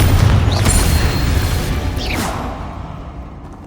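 A Confringo blasting spell going off in Hogwarts Legacy: a loud, close boom with a brief whooshing streak, followed by a second softer whoosh and a fading rumble.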